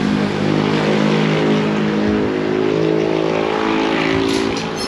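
A Yamaha Fazzio scooter fitted with a bigger 120/70 tire hums along on a test ride, its engine drone and wind noise steady and close for the whole stretch, with no talking.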